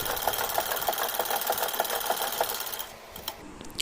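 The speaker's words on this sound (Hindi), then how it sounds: "सबसे पहले हम नेक में स्टिचिंग करेंगे।" A sewing machine stitches a kurti neckline in a fast, even run of mechanical needle clatter with a steady motor hum, then slows and stops near the end.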